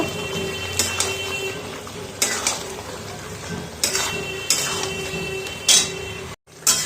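Boiled spinach goes into partly cooked chicken in a pan and is stirred, with repeated metal utensil scrapes and clanks against the pan every second or so over a low background hum.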